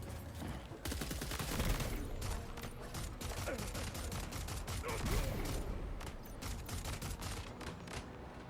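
Rifle gunfire in the video game Death Stranding 2, rapid bursts of sharp cracks in quick succession mixed with mechanical clatter, loud and continuous through most of the stretch.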